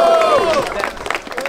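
Crowd noise at a Brazilian rap battle, with lively clapping and cheering mixed with babble, and a voice shouting over it at the start.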